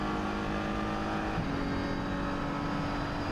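Audi race cars roar steadily along the Nürburgring Grand Prix circuit during a foggy 24-hour race, a dense, continuous engine drone with no talk.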